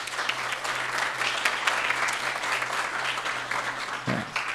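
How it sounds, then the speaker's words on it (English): Sustained audience applause fills the room evenly throughout, dense and steady with a low constant hum beneath, the clapping thinning slightly near the end as it winds down. "please just give them a round of applause"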